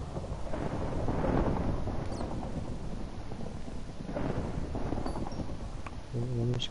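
Rolling thunder in the Minecraft video game rumbles in two broad swells over a steady dark ambient bed, with a few short game tones near the end; no talk over it.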